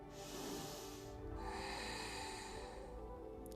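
During a yoga session for the shoulder and hip joints, a slow, deep breath is drawn in and let out close to the microphone, soft and airy with a faint nasal hiss in a quiet room.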